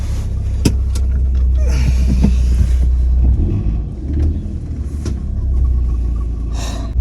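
A car engine idles through a cold night with a loud, steady low rumble, while occasional knocks and shuffling sounds come from inside the vehicle.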